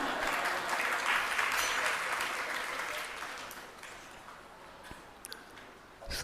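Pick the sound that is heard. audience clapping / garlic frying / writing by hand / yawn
audience clapping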